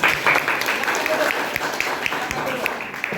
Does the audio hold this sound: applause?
yes